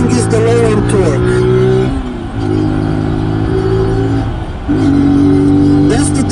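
A Zontes G1 Scrambler 125 motorcycle engine pulls hard in sport mode, its buzzing tone climbing in pitch through two gear changes with short dips between, loud and close over heavy wind noise, while a rider talks over it.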